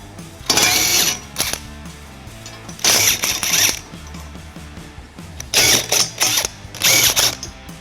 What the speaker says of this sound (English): We're going to remove both end brackets. I'll be using an 11/16 socket.